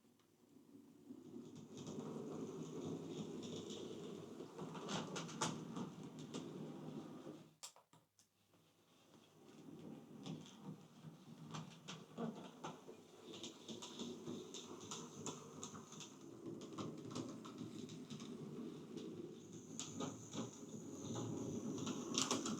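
A Hornby Class Q1 model locomotive runs on its track with a faint, steady motor whir and light rattling of wheels over rail joints, dropping out briefly before starting up again.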